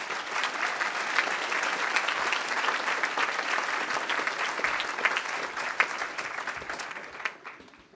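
An audience at an evening Into the Light Walk event applauds warmly for a keynote speaker, steady dense clapping that fills the room and then tapers off at the end.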